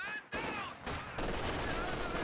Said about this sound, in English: Oh, another rifle grenade going off.